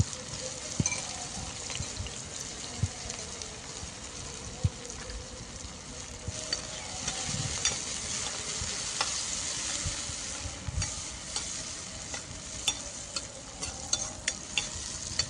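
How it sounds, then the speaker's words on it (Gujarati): Green garlic sautéing briefly in hot oil in a pan, with hing added, while cooking methi paneer; a steady close sizzle and frying crackle runs throughout with light stirring scrapes and no talk. "લસણ વધારે આપણે સાતળવાનું નથી, થોડીક જ વાર આપણે ખાલી તેલમાં સુગંધ આવે ને ત્યાં સુધી સાતળવાનું."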